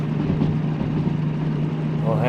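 A DM3 locomotive engine in the train simulation game Derail Valley runs in a steady, continuous drone with a low hum, close and fairly loud throughout.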